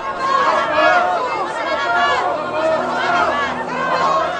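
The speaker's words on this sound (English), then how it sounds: "Pilate is interrupted by the crowd, baying for him to release Barabbas and crucify Jesus" A crowd shouting and clamouring for the release of Barabbas, a loud, continuous babble of many overlapping voices in rising and falling agitated cries.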